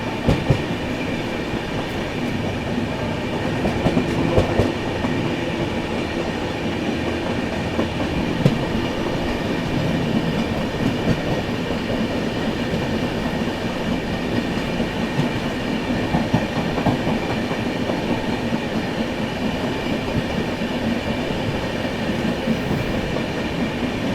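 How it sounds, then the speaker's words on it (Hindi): The Gaya–New Delhi Mahabodhi Express approaches on Indian railway track as a loud, continuous rumble with rolling wheel clatter that holds steady throughout, with no voices over it. "चलिए दोस्तों सामने से आती हुई गया नई दिल्ली महाबोधि एक्सप्रेस।"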